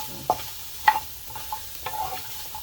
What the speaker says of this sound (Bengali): পেঁয়াজ, রসুন, এটা মরিচ ভাজা হয়ে গেছে